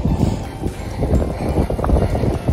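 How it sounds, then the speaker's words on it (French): Strong wind buffets the microphone while riding a loaded touring bicycle along a coastal cycle route, producing heavy, gusting low rumbles throughout. "Je sais pas si on entend mais le vent là ça défonce."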